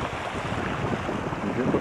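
The Shumak River in the Eastern Sayan mountains rushes past in a steady broadband roar of flowing water, continuous and fairly close, with no voices.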